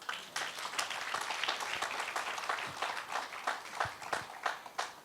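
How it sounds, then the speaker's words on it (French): A church congregation applauds at the close of a service broadcast from Burkina Faso, with steady clapping throughout and a few louder individual claps near the end. "N'applaudissez pas trop fort parce que vous allez me faire pleurer."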